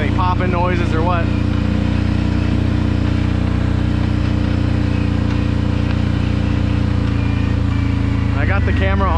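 Kawasaki Brute Force 750 ATV with an aftermarket exhaust on a downhill descent, a steady loud engine drone and exhaust rumble running throughout, with faint voices near the start and end.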